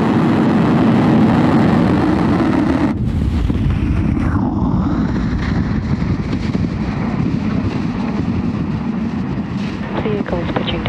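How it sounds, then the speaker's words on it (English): A SpaceX Falcon rocket roars at liftoff, a loud, continuous broadband rumble heard from a distance with wind buffeting the microphone. "ignition, engines full power, and liftoff. Go Falcon"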